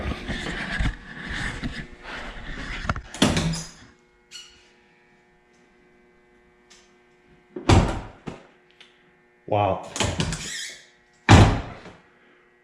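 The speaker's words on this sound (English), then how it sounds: "So let's listen to this door shut" A Can-Am Defender UTV half door is shut with a solid thud, then slammed several more times after short pauses, each a sharp, close impact; one person briefly exclaims early on.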